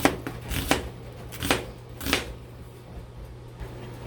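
A knife chops a red onion on a cutting board, sounding as a few separate sharp thuds spaced irregularly, close and moderately loud over a low steady hum with no talking.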